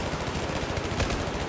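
Rapid gunfire from the Battlefield 4 video game, a dense, continuous burst of automatic shots filling the whole moment at steady loudness with no talk over it.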